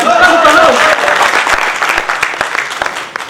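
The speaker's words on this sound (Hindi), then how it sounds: "हाँ ताली बजे तो अच्छे से बजे" Audience applause at a Hindi comedy poetry gathering, a dense wash of clapping from a crowd that starts loud and gradually thins, with a voice briefly speaking at the start.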